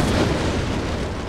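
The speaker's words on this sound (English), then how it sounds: "Well-placed artillery." Artillery fire in a battle in Empire: Total War with the Darthmod mod, a loud booming roar that stays heavy and sustained throughout the short moment, with no speech over it.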